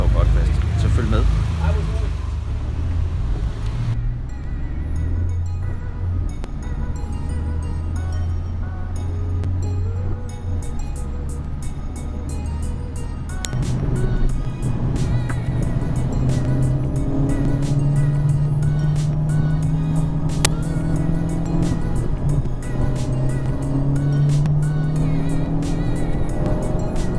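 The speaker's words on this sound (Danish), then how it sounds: "her skal vi rigtig ud og give gas i den nye type R" A 2017 Honda Civic Type R on 20-inch tyres accelerates hard on the Lausitzring race track, its engine climbing in pitch through successive gear changes, heard from inside the car under someone talking.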